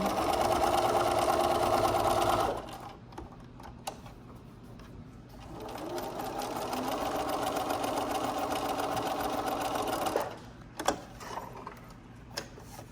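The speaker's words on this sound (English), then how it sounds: "So then I'm going to just simply sew a straight line all the way down." A sewing machine stitches a straight line along fabric for a homemade face mask, a steady close mechanical whir in two long runs separated by a quiet pause, with faint clicks between.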